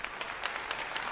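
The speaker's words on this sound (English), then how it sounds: "A little round of applause." Applause in the medieval city-building game Manor Lords, a steady wash of many hands clapping at moderate level for about a second, with no talk over it.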